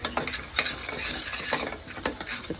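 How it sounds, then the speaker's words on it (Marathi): Onion fries in oil with turmeric and chili powder for a Kolhapuri whole masoor dish, a steady close sizzle broken by regular scraping stirs of a spoon against the pan, with no voices. "हे तिखट आणि हळद याच्यामध्ये कांदा व्यवस्थित शिजवून घ्यायचा आहे"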